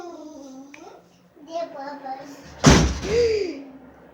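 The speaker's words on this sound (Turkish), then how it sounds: "Kapıyı kapat veri." A door slams shut in a home with a single loud thud, following a voice calling out, with more speech right after.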